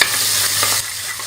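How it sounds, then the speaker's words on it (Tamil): Small shallots and curry leaves are sautéed in a pan, making a loud, brief burst of sizzling and stirring that drops slightly in volume partway through. "கட் பண்ணி வச்சிருக்கிற சின்ன வெங்காயமும் போட்டுக்கலாம். இது கூடவே கருவேப்பிலையும் போட்டு நல்லா வதக்கிக்கலாம்."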